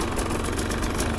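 Fantic motorcycle engine running, a close, steady, throbbing drone with even rhythmic pulsing and no pauses through the brief stretch.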